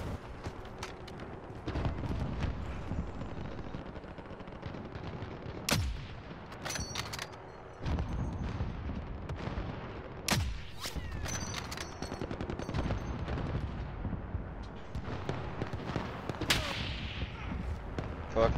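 Repeated gunfire bursts and sharp shots in Call of Duty Warzone, a dense, busy battle mix with sudden loud cracks spread across the stretch, with faint voices underneath.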